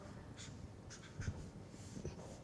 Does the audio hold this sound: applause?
no